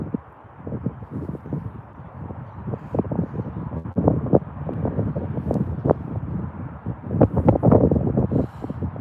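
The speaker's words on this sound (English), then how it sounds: "it's windy and freezing here in Birmingham" Gusty, freezing wind at Birmingham Airport buffets the microphone in uneven bursts, rising and falling and growing stronger toward the end.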